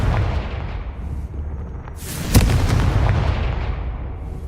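A Confringo fire spell in Hogwarts Legacy goes off as a sharp, booming blast with a rumbling tail, rising out of a low game soundscape.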